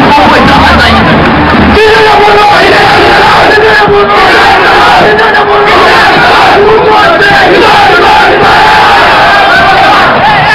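Football supporters of Horizonte roar and chant in a stadium at a Campeonato Cearense 2008 decider against Fortaleza, a loud continuous crowd din with rising battle cries, packed and near throughout.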